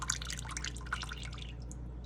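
Starchy rinse water poured off rice in a kitchen trickles and drips, with small close splashes and a faint steady background hum.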